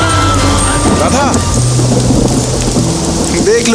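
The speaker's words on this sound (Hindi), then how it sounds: "ये तो धुआंधार बारिश हो रही" Heavy, steady downpour with rolling thunder rumbling through a storm, loud and continuous for the whole stretch, with a voice and some tonal background sounds woven in underneath.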